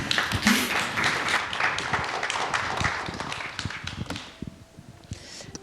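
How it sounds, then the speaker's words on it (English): Audience applause welcoming two panel moderators at a festival session, a fairly quiet patter of scattered claps that thins out and fades toward the end, with a few footstep-like knocks. "Please welcome them with a warm applause."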